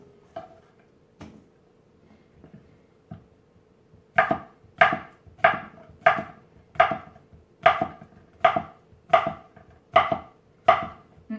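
Knife chopping cucumbers into pickle pieces on a board: a few sparse taps, then a steady run of about ten sharp, evenly spaced chops, close and clear with no talk.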